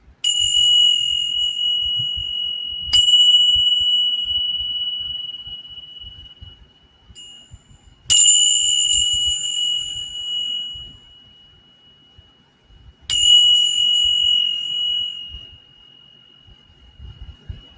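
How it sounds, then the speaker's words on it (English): Clear, ringing bell strikes from two bells swinging past each other, about four of them spaced several seconds apart, each tone sustaining and slowly fading with overlapping shimmering overtones; close and alone. "when you do the bell, you do one and you do the other, and then they start swinging past each other"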